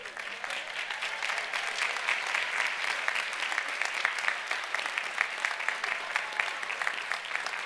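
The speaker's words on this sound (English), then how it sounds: "give them a rousing round of applause" Sustained applause fills a 2024 commencement ceremony as a large audience claps for the graduating class, a dense, even patter of many hands continuing steadily throughout with no voices over it.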